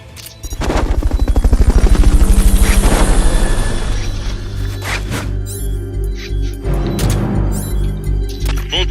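Helicopter in Metal Gear Solid Peace Walker, a loud rapid rotor chop that swells and holds, then gives way to bursts of game gunfire and impacts, no speech.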